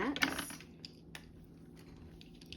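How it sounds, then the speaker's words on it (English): A few light wooden clatters and taps at the start as colored pencils drop onto a table, then quieter scattered knocks in a faint room. "As I'm throwing pencils around"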